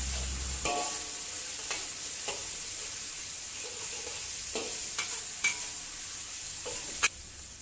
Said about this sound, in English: Saute the garlic, ginger, and the white section of the scallion with the oil that has flavored by the peppercorns.